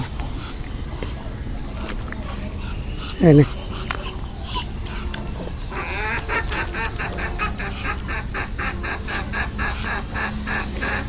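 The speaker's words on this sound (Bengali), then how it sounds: "এই যে যে হাঁস যে কটা আছে" Ducks kept at a home honk and quack in short repeated calls, one sharp loud burst then a run of rhythmic calls, while people talk over them.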